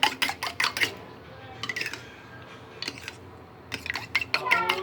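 Egg, milk and salt batter is beaten in a bowl, giving quick bursts of rapid clinking taps against the rim, pausing between bursts, with soft background noise.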